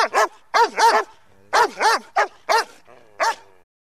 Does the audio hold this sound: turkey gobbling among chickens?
no